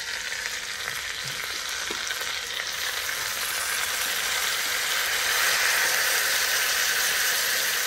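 Constant loud sizzling and crackling of tomatoes frying in a hot pan for chicken curry, a steady hiss that swells slightly toward the end.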